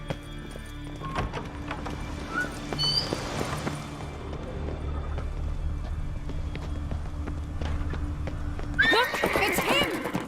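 A horse whinnies over hoofbeats and a busy game soundscape, with a louder, sharper neigh bursting out near the end.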